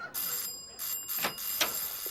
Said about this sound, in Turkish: Ya babacığım kapı çalıyor şu kapıyı açsana be.